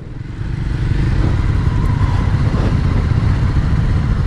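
A Triumph Speed 400 motorcycle ridden on wet roads, its engine a steady close-up drone with wind and tyre noise, holding an even loud level throughout with no voices.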